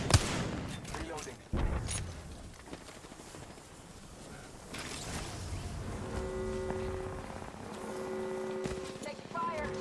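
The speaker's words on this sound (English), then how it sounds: "I'm taking fire." Bursts of gunfire in the battle-royale shooter Apex Legends, sharp loud shots at the start and around two seconds, then scattered distant fire under a steady game soundscape with tonal hum later.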